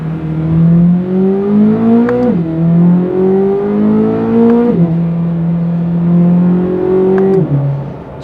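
A Corvette Z06 with a naturally aspirated V8 pulls hard through the gears from inside the cabin, the engine note rising steadily, dropping at each of three quick gear changes and climbing again, loud and continuous throughout.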